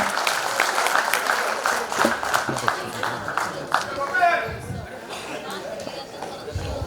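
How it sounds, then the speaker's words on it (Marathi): An audience claps steadily at a school reunion for the 1999 batch's silver jubilee. The applause is moderately loud and mixed with crowd chatter and a voice talking over it. "जोरदार टाळ्या करून देऊया त्याच्याकरता"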